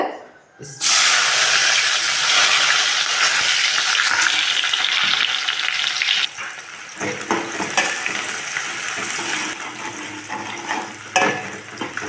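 Loud, steady sizzling of onions frying in hot oil for a kurma, with occasional stirring clatter and bursts of crackle throughout.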